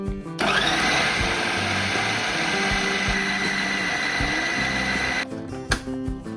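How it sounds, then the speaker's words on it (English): A blender whirs steadily as it blends cheesecake bar batter with vanilla and ground oat flour. The even motor whine runs for about five seconds, then stops, followed by a few faint knocks. "Give it a good blend."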